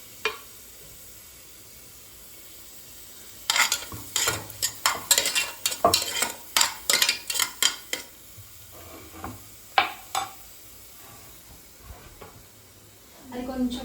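Chopped onion and garlic shallow-fry in a pan, with a quiet sizzle broken by a burst of brisk, rhythmic stirring and scraping strokes, then a few scattered stirs.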